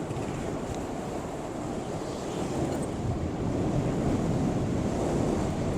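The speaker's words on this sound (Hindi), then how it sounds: "हवा काफ़ी तेज़ है और ठंडी है" Strong cold wind roars across the microphone while riding a Metro E8S Pro electric scooter at over 40 km/h past a rain-filled storm drain, a steady, loud broadband rush that builds slightly toward the end, with no talking.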